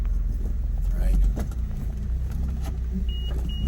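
A 1988 Buick Reatta under way, its engine and road rumble loud and close from inside the cabin, with a brief surge of revs, while voices talk over it.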